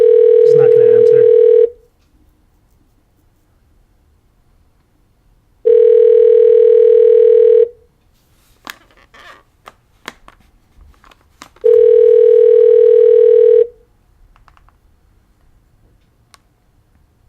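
Ringback of an unanswered telephone line during a prank call: three long, loud, evenly spaced rings, each about two seconds, separated by quiet gaps with faint clicks.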